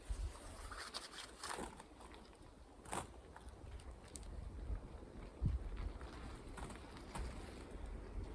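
Gusty wind buffets the microphone outdoors during a tent setup in uneven rumbling bursts, with faint background rustling and no speech.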